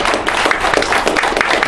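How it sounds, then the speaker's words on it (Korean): Sustained audience applause at a Korean foreign-affairs and security forum conference, dense steady clapping from a crowd throughout, fairly loud and even with no talk. "우리 이정민 장관님께 박수 한번"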